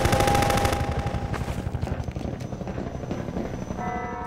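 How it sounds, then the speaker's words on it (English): An attacking helicopter in the video game Half-Life 2: Episode 2 drones loudly and close while bursts of rapid machine-gun fire rattle over it, with scattered impacts. "Since you brought that chopper in on your tail, you want to maybe help us take it down?"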